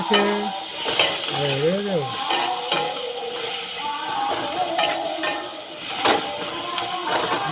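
Ginger garlic paste frying in a pan, a busy sizzle with stirring scrapes and clatter, overlaid by a sung melody.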